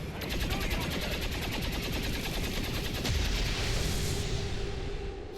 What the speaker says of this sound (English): The Templar missing with her pistol.